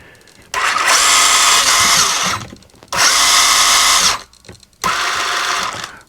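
Electric motor of a Kyosho Turbo Optima RC car whines loudly in three high-pitched bursts as it runs forward, brakes and reverses, with short quiet pauses between the bursts.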